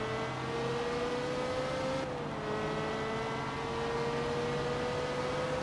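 A Ferrari race car engine in Forza Motorsport 2 on Xbox 360 holds a steady, fairly quiet drone, its pitch dipping briefly partway through before settling again, with no voices.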